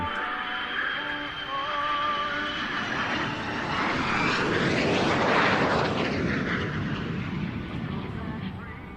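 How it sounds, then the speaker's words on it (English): An F-35 and an F-22 fighter jet fly past together, a broad engine roar that swells to a loud peak and then slowly fades. "very nice fly past. I thought I was seeing double then for a minute, but there we go, the F-35 and the F-22"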